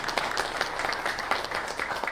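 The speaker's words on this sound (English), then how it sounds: "a round of applause for our sponsors" An audience at a hospital electrical and fire safety seminar applauds the event's sponsors, a steady dense patter of many hands clapping at moderate volume, without speech.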